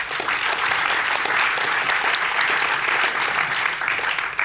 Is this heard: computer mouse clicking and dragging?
no